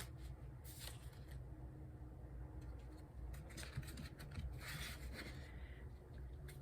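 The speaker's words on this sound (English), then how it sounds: "Alright, one more shuffle." Tarot cards being shuffled by hand, a steady papery rubbing and riffling that runs continuously at close range, with no talking.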